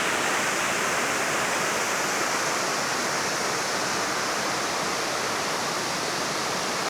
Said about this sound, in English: this is the little creek that feeds the waterfall, which is all of this water